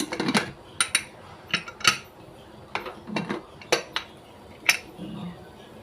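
A kitchen pressure cooker is handled and opened to check puffed bora rice, giving sharp, close metallic clanks and clinks at irregular intervals, some louder than others, over a quiet background.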